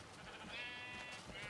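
A single short bleat from a sheep in the video game Minecraft, faint and brief over a soft hiss, with no talking.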